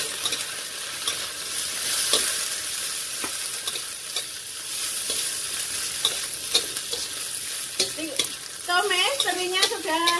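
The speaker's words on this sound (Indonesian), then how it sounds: "Tumis terinya sudah setengah matang" Anchovies stir-fried with a garlic and chilli spice paste in a pan, a continuous close sizzle with repeated scraping clicks of the spatula, a brief squeaky clatter near the end.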